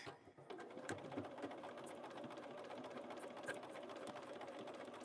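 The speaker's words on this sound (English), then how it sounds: "I'm going to sew this on" A sewing machine runs in a continuous fast buzz of stitching, sewing fabric scraps into a stained-glass-style quilt piece, close and steady with no talk.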